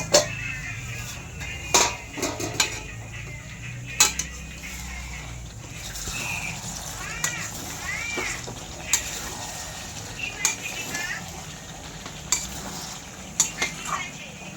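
A plate used as a lid comes off a pot of chicken kosha with potatoes, followed by sharp metal clanks and scraping stirs against the pot. The hits are scattered and close, with soft sizzling underneath.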